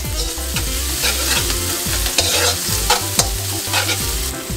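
Onions and garlic sauté loudly in a hot pan for sweet chili crab, a dense continuous sizzle punctuated by rhythmic scraping and clattering strokes of a spatula.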